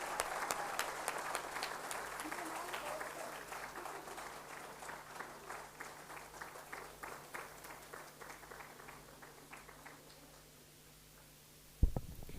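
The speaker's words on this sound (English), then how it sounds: "A big round of applause once again for all of them." Audience clapping at an award ceremony at MICA, Ahmedabad: sustained applause from a seated crowd in a hall, gradually thinning and fading out, followed by a couple of sharp knocks at the end.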